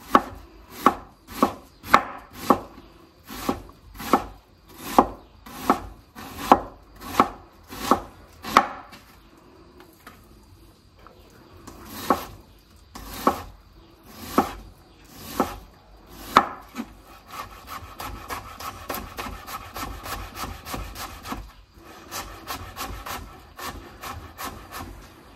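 A knife finely minces an ingredient for homemade tartare sauce on a wooden board, crisp rapid chops in quick bursts, then a softer rasping scrape and more chopping.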